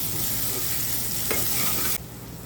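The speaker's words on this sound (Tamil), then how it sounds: "இதெல்லாம் நல்லா வதக்கிக்கலாம்." Garam masala, cumin and chili powder being sautéed and stirred in a pan for biryani, giving a steady close sizzle with a brief scrape near the middle before the frying quiets abruptly.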